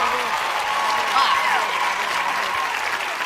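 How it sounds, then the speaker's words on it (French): An audience at a televised talent show claps for a performing act, sustained applause with scattered cheers and a voice over it throughout. "Merci de les applaudir encore, s'il vous plaît."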